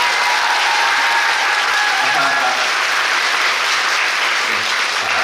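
Theater audience applauding the onstage performers during a curtain-call stage greeting after a matinee of a Korean musical, dense and sustained clapping that fills the hall, with a brief spoken thanks on top.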